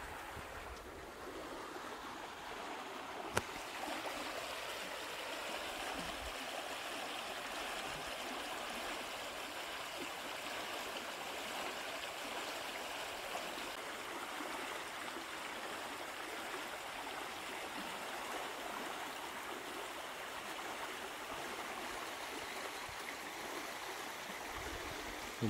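Chodelka river flowing steadily, a broad continuous rush of moving water with a faint breeze, unchanging throughout, with no talking and one small click near the start.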